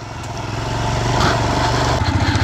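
A Royal Enfield Himalayan motorcycle riding a rough, dangerous off-road mountain track in Kinnaur, its single-cylinder engine thumping steadily and loudly close by, revving slightly as it labors over broken ground.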